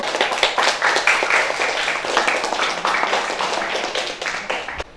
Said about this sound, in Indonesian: kita kasih tepuk tangan buat kelompok 3.